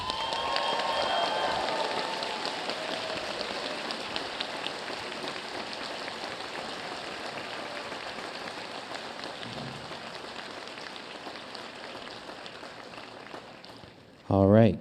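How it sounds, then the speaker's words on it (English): A large audience at a graduate commencement ceremony gives a long, sustained round of applause for the newly seated graduates. The clapping is steady and massed like a roar, slowly fades, and ends with a brief loud bump. "Really quick, can we give them a round of applause?"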